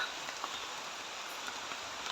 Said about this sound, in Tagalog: Ay, lakas na ng ulan.